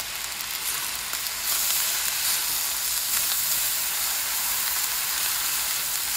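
Fried rice sizzles steadily in a hot pan once soy sauce goes in, a dense continuous hiss that swells slightly after the first second and holds, with no talking.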